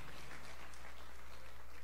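A church congregation applauds steadily, a dense wash of clapping heard at a low, distant level with no speech over it.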